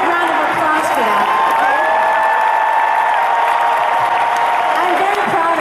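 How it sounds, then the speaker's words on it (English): Audience applause and cheering at a concert, a loud sustained crowd roar with clapping and scattered whoops filling the space for several seconds, with no single voice standing out. "I'd like a big round of applause for that."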